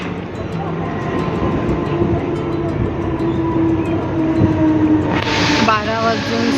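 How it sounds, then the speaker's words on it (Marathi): A train rolls into Dronagiri station with a low rumble and rail noise, and a short burst of brighter hiss near the end as it comes in; voices murmur in the background. "ते 1 मिनटं आधी आली आहे ट्रेन"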